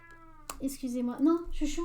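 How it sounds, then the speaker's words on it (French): A pet cat meows indoors, close and fairly loud, in a few drawn-out calls while someone talks over it in French. "c'est mon chat qui vient m'embêter"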